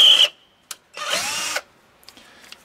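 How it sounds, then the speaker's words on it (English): Cordless drill boring a hole outdoors in below-freezing weather: two short whirring bursts, the longer one about half a second of steady spinning, heard close and alone with faint handling noises after. "let's go outside and drill a hole in something just to see how it performs"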